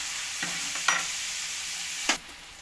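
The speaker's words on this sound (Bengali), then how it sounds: "এবার সব সবজিগুলো একটু নেড়ে আর একটু যখন ভাজা ভাজা হয়ে আসছে" Vegetables for chicken chow mein sizzle in hot oil while being stirred, with a steady frying hiss broken by a few sharp scraping tosses of the spatula, close up and without talk.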